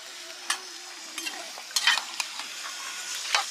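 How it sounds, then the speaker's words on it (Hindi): Chicken fries in a kadai for biryani, a soft continuous sizzle broken by scattered clinks and scrapes of stirring, close and moderately loud with no voices. "मेरा भाई ने चिकन को फ्राई करने के लिए कढ़ाई में डाल दिया है।"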